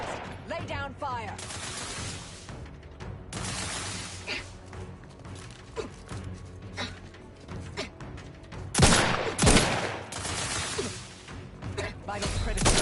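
Dense combat gunfire in The Outer Worlds 2 on PS5 Pro, with rapid automatic bursts, sharp single shots, thuds and whooshes layered continuously, peaking in a loud volley near the end, with game voices mixed in.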